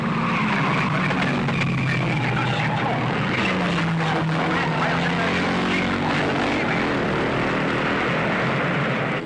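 A 1955 race car spinning out, with a long loud tyre screech sliding in pitch over a roaring engine and a droning propeller aircraft, amid a dense, continuous racing din.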